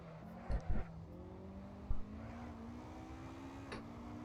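A simulated race car engine from a racing sim driven with MOZA pedals, a steady low drone that climbs gradually in pitch, with a few short thumps and clicks over it.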